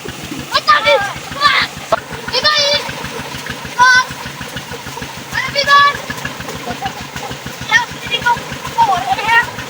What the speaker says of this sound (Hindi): पनीरी को धोया जा रहा है, तो देखते हैं उधर क्या हो रहा है।